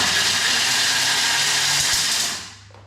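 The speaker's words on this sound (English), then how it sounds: "The chopping dates on turbo can be a little bit loud because we're using that full power in the Thermomix." A Thermomix at full turbo power blitzes dates with a loud, steady high-pitched whirring roar for over two seconds before quickly winding down.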